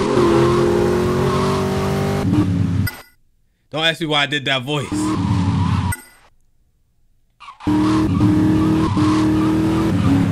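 A car engine revs and tires skid in the video game GTA Vice City Stories, loud and close, with a break in the middle where someone talks over near-silence before the engine and skidding return.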